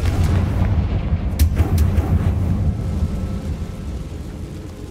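A loud, booming blast from the Confringo blasting spell in a Harry Potter video game, a heavy rumbling explosion that decays slowly over several seconds with no voice over it.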